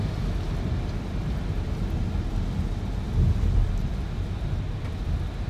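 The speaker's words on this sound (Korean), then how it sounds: "오늘 비가 많이 오네" Heavy rain falls in a steady, dense wash of noise, with a deeper rumble swelling briefly partway through; no voices are heard.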